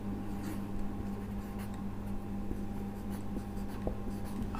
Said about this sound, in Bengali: আমরা লিখব।